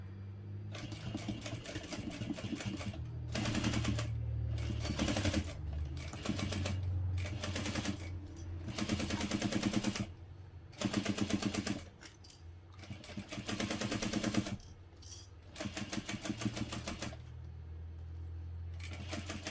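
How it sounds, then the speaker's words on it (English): A sewing machine stitches along zipper panels of a hobo bag in repeated close, steady whirring runs broken by brief pauses, rhythmic needle chatter throughout and no voices. "And here I'll sew all the way to the end of the 2 zipper panels."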